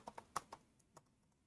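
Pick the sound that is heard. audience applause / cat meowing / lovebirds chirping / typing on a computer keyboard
typing on a computer keyboard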